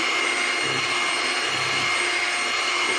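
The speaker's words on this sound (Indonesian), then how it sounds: "Mau kita mixer lagi." Electric mixer beats batter for a premium gluten-free lapis legit cake, a loud, steady whirring drone that holds without a break.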